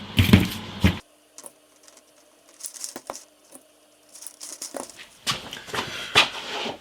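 Sharp, intermittent snips and clicks come from a homemade cutter cutting guitar fret wire into lengths in a workshop. The cuts are spaced out, with quiet handling noise between them.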